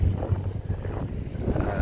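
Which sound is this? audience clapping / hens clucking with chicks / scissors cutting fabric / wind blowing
wind blowing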